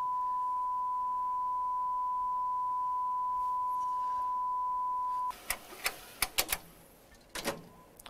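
Steady 1 kHz test tone played back from a master tape during transfer of Bernstein's Beethoven symphony recordings, holding alone for about five seconds before cutting off, followed by a series of short sharp clicks and ticks.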